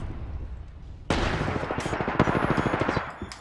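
Rapid automatic gunfire in the shooter game Apex Legends, a loud burst of fast repeated shots starting abruptly and continuing for about two seconds, with a couple of sharper cracks, no talking.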